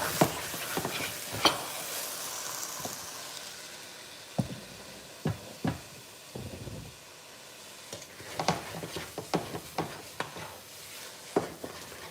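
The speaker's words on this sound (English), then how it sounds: "Let's not forget to, stir." Maize cake mixture stirred in a pot, a spoon scraping and knocking against the sides in scattered bursts over a soft background hiss, close and without speech.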